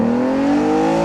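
Aston Martin DB9 V12 engine in sport mode, a smooth, steady exhaust drone climbing slightly in pitch under load, loud and close.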